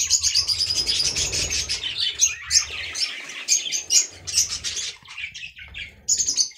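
Budgerigar chicks in a nest chirp and tweet in a dense, continuous high-pitched chorus, close and fairly loud, with brief fluttering and squawky calls mixed in and short pauses near the end.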